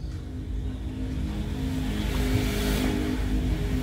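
A steady LG Smart Inverter washing machine motor hum with a faint rising whine, running continuously and fairly close, with no talking.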